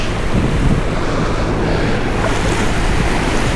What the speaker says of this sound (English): Some good rapids there.